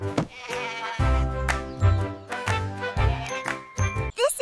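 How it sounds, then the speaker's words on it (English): A cartoon farm goat gives a series of wavering bleats over a light, tinkling musical backing with bell-like jingles, the calls repeating close and loud. "This is a goat."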